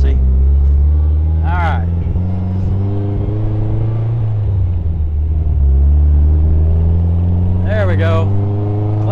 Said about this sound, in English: turn on the ignition, pull the starter